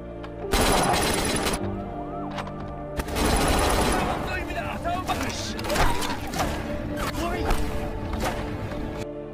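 Shootout from Money Heist Korea: loud bursts of gunfire and clattering mechanical impacts in two heavy waves, followed by scattered shots and rattling under a dramatic scene.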